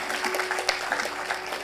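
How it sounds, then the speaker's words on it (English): A short burst of audience applause during a guest felicitation at a conference hall, moderate and steady clapping with a faint steady tone beneath. "huge round of applause while we felicitate our guest"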